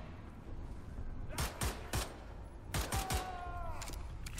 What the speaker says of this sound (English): Let's use that pistol for a bit.